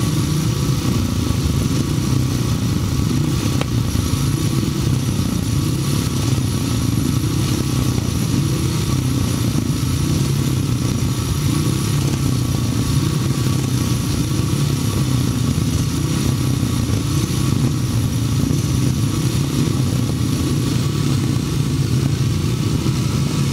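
Several 500cc sidecar racing outfits roar around a grasstrack in a continuous loud, dense engine drone, with overlapping revs and no pauses throughout the heat.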